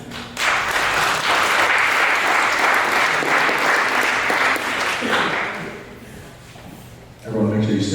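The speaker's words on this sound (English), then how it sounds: "Maybe one more round of applause." An audience at a talk applauds a sponsor being welcomed, giving a dense, sustained round of clapping that swells and then tapers off, before a voice begins speaking near the end.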